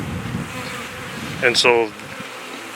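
A large honeybee colony hums with a steady, low buzzing drone throughout, while a voice speaks briefly partway through.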